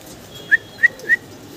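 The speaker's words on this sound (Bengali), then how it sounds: "দর্শক ভিডিও স্ক্রিনে আমরা এখানে দেখতেছি শাটিন কবুতর আছে, একটা ঝর্ণা শাটিন, একটা ব্লু শাটিন।" Three short, evenly spaced calls ring out clearly over a quiet background, fitting old-breed Shapchila and satin pigeons cooing in a farm loft.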